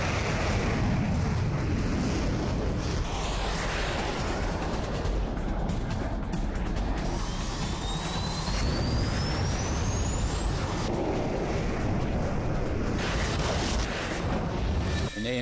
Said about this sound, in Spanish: En ese momento escucho una explosión muy fuerte.